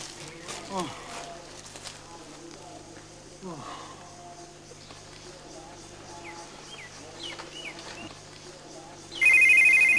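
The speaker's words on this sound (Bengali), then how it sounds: "phone phone" A mobile phone rings outdoors where people rest under a tree: quiet birdsong and ambience first, then a loud, bright electronic ringtone bursts in abruptly for the final second.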